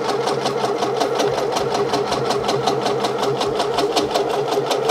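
An embroidery machine stitches a design into a sweatshirt with a fast, steady run of rapid repeating needle strikes, close and continuous throughout with no talking.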